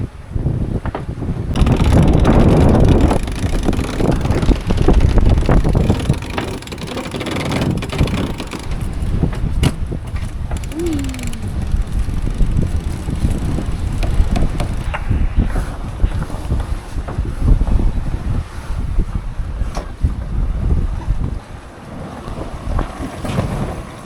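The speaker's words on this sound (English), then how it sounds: "the wind's really picked up as well, 14 knots true" Strong wind roars across the microphone aboard a sailboat making about 5.5 knots through the water in the Strait of Zakynthos, with the rush and slosh of the hull under loud, gusty buffeting and no talk.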